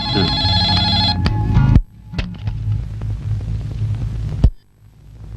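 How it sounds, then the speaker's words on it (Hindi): A telephone rings with a bright, repeating electronic tone for under two seconds, then stops; low hum and faint clatter continue in a quiet room afterward. "सर, दिल्ली से विजय कुमार जी का फोन है।"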